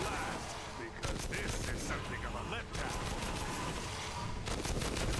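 Continuous rapid gunfire blasting at goblins in the action game Too Human, dense bursts filling the whole stretch with brief dips, loud and up front.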